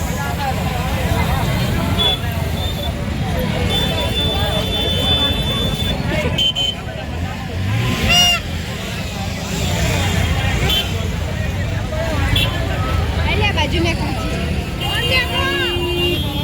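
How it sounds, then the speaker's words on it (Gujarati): Heavy town traffic in Vadnagar during pre-Uttarayan shopping, with engines, passing vehicles and occasional horns in a constant roadside din, crowd murmur and a voice talking over it. "ટ્રાફિક બહુ વધી ગઈ છે ગાઈસ."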